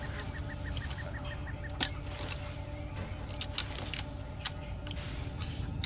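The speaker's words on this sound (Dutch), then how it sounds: "Hallo kippetje of gans of wat je ook bent." A chicken or goose clucks in Far Cry 2, with a short run of quick, faint clucks early on over a steady, humming game ambience. A few sharp ticks and clicks sound throughout.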